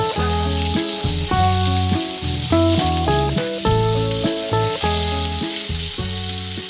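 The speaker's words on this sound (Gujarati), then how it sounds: "તેલ ગરમ હોવાને લીધે જીરું અને તલ તરત જ ફૂટી અને ઉપર આવવા લાગે છે" Cumin and sesame seeds splutter and crackle in hot oil, a steady fizzing sizzle running beneath loud, prominent background music throughout.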